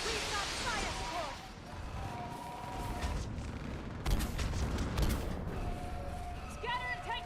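Artillery fire support in a video game battle, with booming, rumbling barrages and scattered blasts over a noisy war soundscape. A sharp impact comes partway through, and voices shout faintly in the mix.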